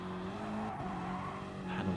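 A Gr3 race car braking hard at Circuit de la Sarthe in a racing video game, its engine drone joined by a brief tire squeal, heard faintly and alone.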